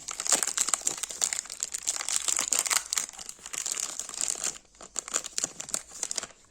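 Crinkling plastic wrapper of a peanut bar torn open by hand, loud, close crackles and rustles in quick bursts throughout, easing briefly near the end, with no talking.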